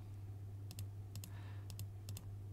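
Mouse clicks shuffling a digital card deck in an online card game, four quick paired clicks at steady intervals over a low steady hum, no talk.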